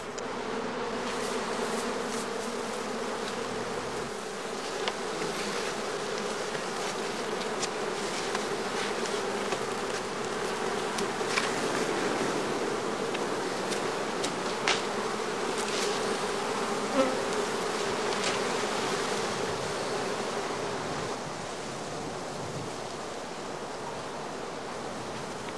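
Honey bees swarm and buzz around straw skeps, a dense, steady insect drone that holds level throughout with no voices.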